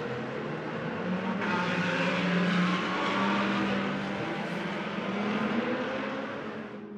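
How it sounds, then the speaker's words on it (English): A pack of GT race cars rolls around the Spa-Francorchamps circuit on the formation lap of the Hankook 12 Hours. Engines blend into a dense, sustained roar that swells and fades slightly, with no voices. "there they are, onto the formation lap for the Hankook 12 Hours of Spa"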